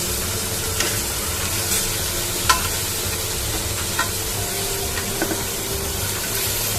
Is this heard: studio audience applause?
no